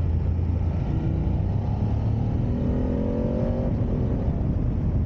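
A 2019 BMW GS 750 motorcycle engine drones steadily while riding, with a continuous loud rumble, shifting engine tones and heavy wind noise throughout.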